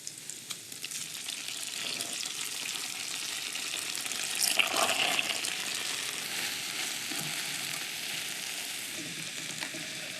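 Bread frying in olive oil in a pan for a Portuguese shrimp açorda, a steady broad sizzle running throughout, rising a little around the middle with a few stirring scrapes, no talk.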